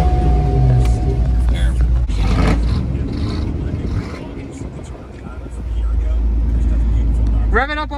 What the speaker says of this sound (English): Here, give it one rev.